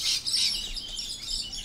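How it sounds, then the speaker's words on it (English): Springtime birds chatter busily outdoors, a dense overlapping stream of bright chirps and tweets that carries on without pause, with no voices. "And yes, Helen, the birds here are going flaming nuts here"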